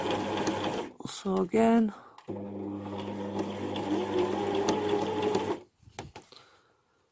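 A sewing machine stitches an invisible zipper in a steady, fast mechanical whir for a few seconds, with a person speaking before and over the start of the stitching.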